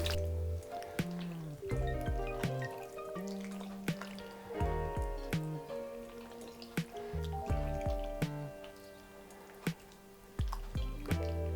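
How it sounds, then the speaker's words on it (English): Sauce is stirred into pumpkin mac and cheese, making close, wet squelching and sticky squishing. Soft clacks of the spoon punctuate an uneven rhythm, with no talking. "And then we're adding the sauce and then mixing it in until everything is well combined."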